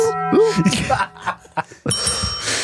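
A small bell rung by hand rings out with several bright, sustained dings near the mic while voices talk and laugh around it, followed by a burst of noise.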